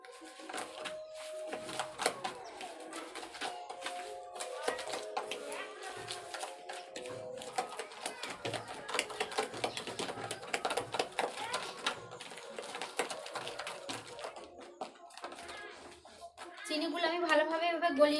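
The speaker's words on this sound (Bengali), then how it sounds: "ডিমের সঙ্গে চিনি আর গুঁড়ো দুধ আর লবণ একসঙ্গে আমি ফাটিয়ে" Eggs are beaten with sugar, powdered milk and salt in a bowl, making a fast, steady clatter of rapid clicking strokes up close that runs throughout and grows louder near the end.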